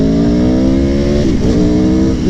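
A street motorcycle's engine drones loudly and close by at steady high revs with a rising pitch, dipping briefly as the throttle shifts and then pulling again.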